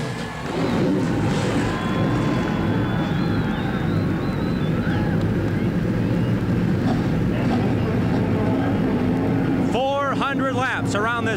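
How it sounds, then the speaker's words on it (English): Stock race car engines start and idle together at Anderson Speedway, a high-banked quarter-mile oval, building into a loud continuous roar with a dense, rough rumble. Near the end, revs climb sharply in quick rising-falling sweeps. "Gentlemen, start your engines."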